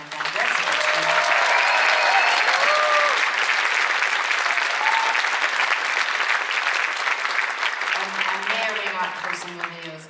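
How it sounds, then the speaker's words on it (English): Concert crowd at a show in Milton's Mattamy Theatre bursts into loud, sustained applause, thick with cheers, whoops and whistles rising above the clapping throughout. "an extra huge round of applause for my friend Greg"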